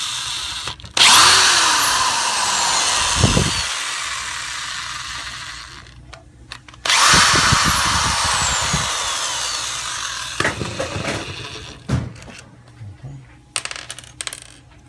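A power tool spins out the upper housing bolts, two loud whirring runs each a few seconds long, followed by metallic clinks and rattles of loosened bolts and parts, without any talking.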